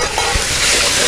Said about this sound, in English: as soon as those are fragrant, I'm going to add my other ingredients